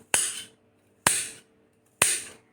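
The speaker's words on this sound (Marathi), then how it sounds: "असे छोटे छोटे छान असे तुकडे करून घेणार आहे मी." Fresh turmeric is chopped into small pieces with a knife, giving three sharp, evenly spaced chops on a board, about a second apart, each short and crisp with a brief decay, and no talk.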